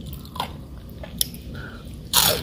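Crisp bites into battered, single-coated fried mushroom, a few sharp crunches spaced apart and then a louder burst of crunching at the end, close up with no talking.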